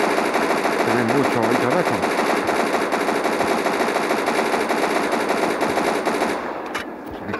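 Sustained, loud machine-gun fire pours out almost without pause in a zombie-shooting video game, cutting off briefly near the end, while someone speaks over it.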